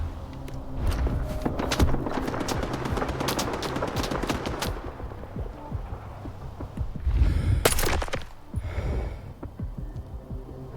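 Gunfire rattles in the video game STALKER 2: Heart of Chornobyl, with rapid machine-gun bursts and single shots for several seconds, then a quieter gap broken by a few louder later shots and faint footsteps.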